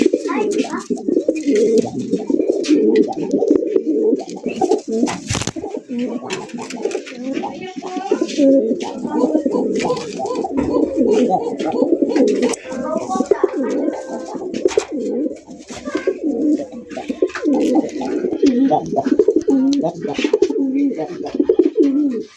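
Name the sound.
fancy pigeons cooing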